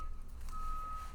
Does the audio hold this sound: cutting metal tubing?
no